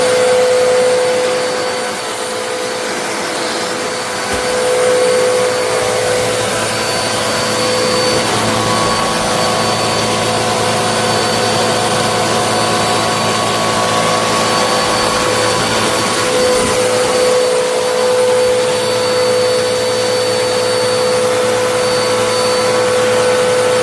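A Eureka NEU202C PowerSpeed lightweight bagless upright vacuum cleaner runs close by with a steady, loud motor whine and airflow roar that holds unchanged throughout, with no voices.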